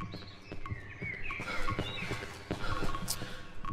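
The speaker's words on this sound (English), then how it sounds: "I can hear the birds." Birds chirp in the Cry of Fear video game, with faint, scattered tweets over a low ambient background and irregular soft knocks or footsteps.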